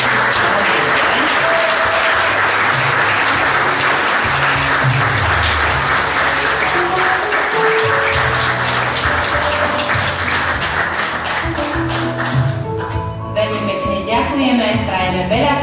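An audience at a sports awards ceremony for the town of Svit's most successful athletes and clubs breaks into loud, sustained applause. Music rises beneath it near the end as the clapping continues.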